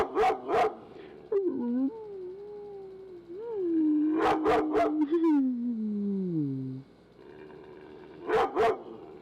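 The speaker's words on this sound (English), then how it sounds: "Neighbor's dog is very protective." A dog on an Oregon homestead vocalizes nearby in short bursts at the start and end, with a drawn-out whining howl gliding down in pitch through the middle.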